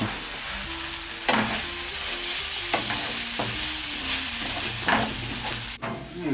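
Vegetables and paste for zucchini caviar sizzle steadily in a hot pan while a utensil scrapes and stirs them with occasional clacks, close up and loud.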